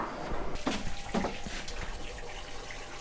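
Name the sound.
water running from a tap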